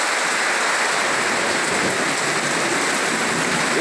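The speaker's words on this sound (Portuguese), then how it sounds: "E a chuva tá que tá aqui na Amazônia" Heavy rain pours steadily and loudly in the Amazon, a dense continuous hiss of drops with no pauses.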